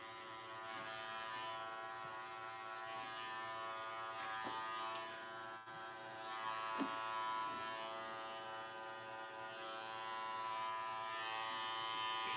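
Electric hair clippers hum with a steady, close buzz during a haircut touch-up, running continuously with a couple of brief clicks and no speech.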